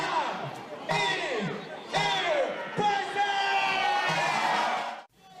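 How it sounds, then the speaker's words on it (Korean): A loud crowd of hundreds of children and adults shouts and cheers at a water gun event during the Yuseong hot spring festival in Daejeon, with steady roaring and whooping that swells in bursts across the clip. "수백 명의 참가자들이 우레와 같은 함성과 함께 온천물이 담긴 물총을 쏘기 시작합니다"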